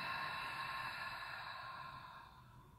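A single long, soft exhale during a prenatal exercise for the pelvis and spine, a steady breathy rush that tapers off slowly, heard alone and fairly faint.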